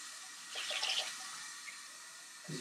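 Hot water running from a tap to rinse after shaving, a soft hiss of flowing water that swells briefly, then settles into a quiet steady trickle.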